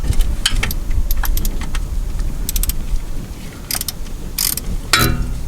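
A ratchet works loose the transmission pan bolts on a GMC Sierra, rapid metallic clicking bursts coming in close, irregular runs over a steady mechanical background.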